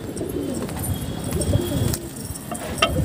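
Pigeons cooing softly in low, murmuring calls while being fed roti, with faint chirps and a dense steady flock murmur in the background.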